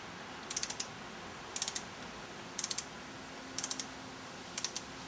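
Ratchet wrench ticking in five evenly spaced bursts of three or four quick clicks while tightening valve cover bolts on a 2000 Mitsubishi Galant 4G64 SOHC engine, crisp and close over a low background hiss.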